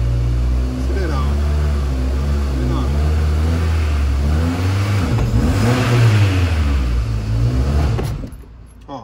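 Ford EcoSport engine revving to about 3,000 rpm during a clutch slip test at a service check, a loud rising and falling mid-pitched roar under a man's speech, then cutting out abruptly at the end as the engine stalls.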